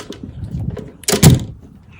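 A hotel room door at a ski resort opens with a short scrape and a solid latch clunk, loud and close, after a few soft handling rustles.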